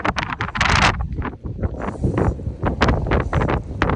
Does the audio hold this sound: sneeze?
no